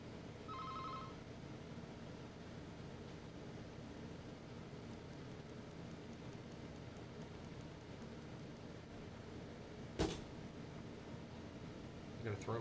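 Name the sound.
phone ringing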